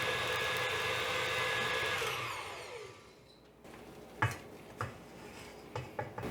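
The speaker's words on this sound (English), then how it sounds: "I'm going to mix on high for about 5 minutes and see what we've got" An electric mixer whirs on high, beating gluten-free sourdough muffin dough, then winds down and stops, followed by a few soft clinks and taps of the bowl.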